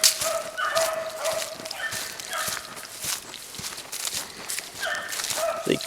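Hunting dogs bark repeatedly during a rabbit hunt in Mershon, southeast Georgia. The barks are sharp and irregular and sound somewhat distant, with rustling footsteps through brush in between.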